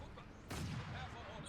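A 152mm artillery strike in Company of Heroes 2, a sudden distant blast that lands midway and rolls on as a faint, rumbling explosion under the quiet battlefield background.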